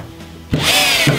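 A Bosch GSR 10.8V cordless drill, in second gear, drives a 4.5x60 screw into hardwood. After a brief quiet moment, the motor kicks in with a loud, close, rising whine that holds steady under load.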